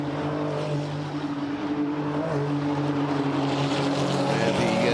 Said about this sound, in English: Watching the cars going through turn 1 and then up to the chicane